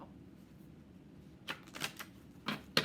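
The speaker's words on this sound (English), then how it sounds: "Should I shuffle them up for you?" A stack of flash cards being shuffled by hand, several quick papery riffles and flicks after a quiet start, faint and close.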